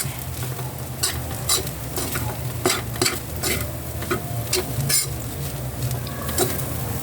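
Steady stirring of leftover fried rice in a pan as extra seasoning mix is worked in, with a utensil scraping and tapping against the pan over a continuous sizzle; close and busy, no one talking.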